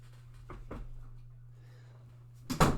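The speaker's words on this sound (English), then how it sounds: "gonna close this door. I don't need it." A door is shut indoors, ending in one sharp, loud thud and clatter after a few soft shuffling knocks, over a steady low hum with no talk.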